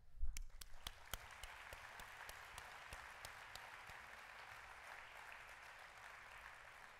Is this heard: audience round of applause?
yes